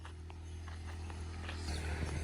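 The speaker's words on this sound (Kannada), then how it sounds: "ಯಾಕೋ ಸೌಂಡ್ ಹೊಂಟದ್ರಿ ಎತ್ತಿನ ಗಾಡಿದು" Hoof clip-clop of a bullock cart's oxen walking steadily near a farm field, drawing nearer and growing louder over a low rumbling hum, with no talking.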